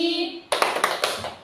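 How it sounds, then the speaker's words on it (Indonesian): A group of students claps in unison during a classroom clapping game, five or six sharp close claps in a quick rhythmic burst after a voice fades out. "Terima kasih atas permainan tepuknya"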